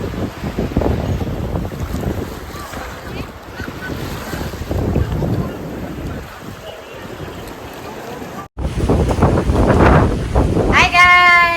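Strong wind buffets the microphone by the sea, with roaring gusts and surf sounds near a small boat, and faint voices talking underneath.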